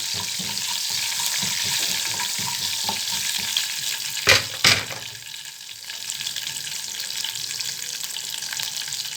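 Onion, coriander leaves and curry leaves sauté in a pan with a constant hiss and soft stirring scrapes. Around the middle comes a couple of sharper knocks or splashes, and the sizzle continues steadily afterward without speech.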